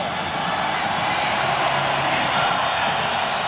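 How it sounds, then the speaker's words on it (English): Hockey arena crowd at a 1996 Toronto Maple Leafs playoff game against the St. Louis Blues, a steady broad roar of cheering spectators with no clear breaks. "Crowd warming up again, sensing maybe a win, sensing maybe more hockey for the Maple Leafs"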